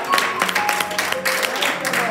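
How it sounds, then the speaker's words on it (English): A church congregation claps hands in praise, a dense patter of applause mixed with voices and a sustained musical tone, lively and close throughout. "Come on, clap your hands and give God praise."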